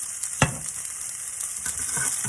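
Onions fry in a pan, a continuous close sizzle with a sharp utensil knock near the start and light stirring scrapes, no voices.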